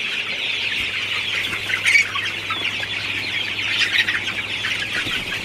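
A large flock of Sonali super hybrid chickens clucks and chatters continuously throughout a poultry shed, a dense steady murmur of many birds with a low hum from running fans underneath.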